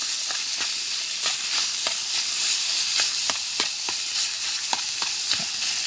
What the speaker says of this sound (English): You can hear that sizzling already from the heat.